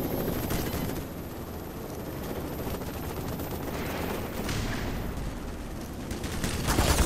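An Apache helicopter's gun rattles in Black Mesa, producing a dense, continuous stream of rapid automatic fire that stays loud and close, with a brief surge near the end.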